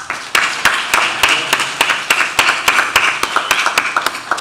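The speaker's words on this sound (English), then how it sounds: "Let's go ahead and give a round of applause." An audience applauds at a panel event on Puerto Rico's recovery after Hurricane María, giving a round of sharp, closely spaced claps that carry on steadily for several seconds.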